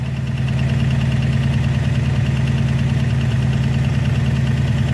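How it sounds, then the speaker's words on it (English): A car engine fitted with a Holley carburetor idles close by, a steady, even rumble with a fast regular pulse and no pauses, heard alone without talk. "You heard the engine idle drop."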